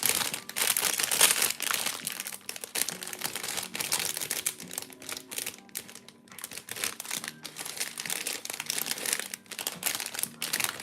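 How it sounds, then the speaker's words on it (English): Plastic bags of Lego pieces crinkle and rustle continuously up close, with dense crackling handling noise and bursts of crumpling, no speech. "Let's go, plastic bags."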